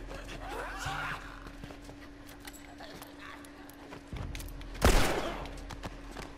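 Shotgun blast in The Last of Us on PS4: a single loud, sharp report near the end, over a low steady hum and faint background game sounds.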